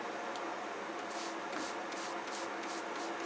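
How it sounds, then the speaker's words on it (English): Bug spray is misted onto a Cattleya orchid in a series of short hissing spray bursts, some quick and close together, over a faint background hiss. "I'll just give it a bug spray like I always do with these, just to make sure"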